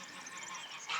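Geese on a farm in Portugal honk faintly in the distance, a few scattered calls followed by a brighter burst of honking near the end.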